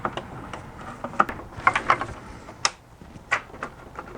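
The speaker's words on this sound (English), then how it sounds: "We'll just snap that thing back in." Plastic clicks and small snaps of a coolant hose quick-connect being worked back into place on a BMW E46 thermostat housing, a scattered series of close, sharp ticks with brief rattles and no talking.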